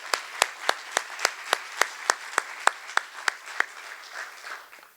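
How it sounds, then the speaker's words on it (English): An audience at a visitors bureau annual meeting and legislative breakfast claps in slow, evenly spaced single claps, about a dozen sharp beats, then a softer spread of clapping fading at the end. "Can we have another round of applause for Stacy and her team?"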